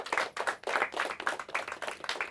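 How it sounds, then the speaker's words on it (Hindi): Audience at a Hindi-language school quiz final applauds a competing team, a steady burst of many hands clapping in rippling waves, fairly close and loud with no voices. "इनके लिए भी तालियां हो जाए"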